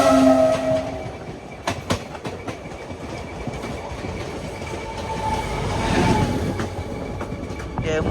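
Dauladhar Express on the Delhi to Pathankot run heard from inside, a steady rumble of wheels on rails with occasional sharp clacks at the joints and a brief horn-like tone at the start.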